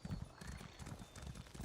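A summoned horse in Elder Scrolls Online clip-clops in a quick, steady hoof rhythm, faint and close, with a brief whinny mixed in.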